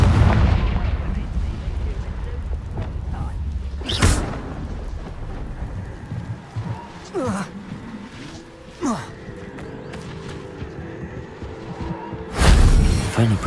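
Fire-spell explosions from the video game Hogwarts Legacy, cast inside Falbarton Castle: two heavy booming blasts, one early and one near the end, over a steady rumbling game ambience with smaller crackles between them.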